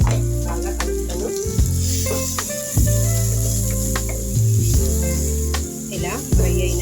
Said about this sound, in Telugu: బాగా ఫ్రై చేస్తాను.